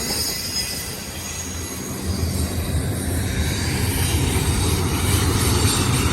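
A long freight train rolls past on the main line, close and loud, with a heavy continuous rumble of wheels and faint squealing rising steadily, with no talking.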